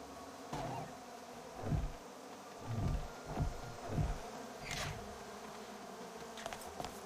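Bees buzzing in the video game Psychonauts 2, several soft swelling hums drifting past at intervals over a quiet background, fairly faint with no talk.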